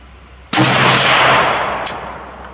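A single sharp StG 44 rifle shot cracks loudly at close range on a shooting range, followed by a long decaying echo that fades slowly, with a faint second report near the end.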